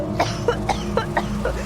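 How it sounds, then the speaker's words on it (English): Repeated harsh coughs, about six in quick succession with short gaps, close and loud, with no talking. "my aunt goes into this coughing fit again."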